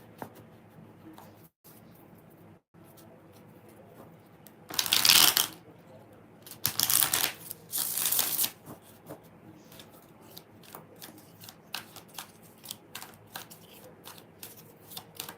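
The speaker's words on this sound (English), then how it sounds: "2 more shuffles." Tarot cards riffled in two quick bursts of shuffling, close and crisp against a quiet room with faint, sparse background sounds.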